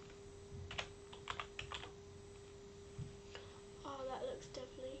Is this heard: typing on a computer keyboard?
yes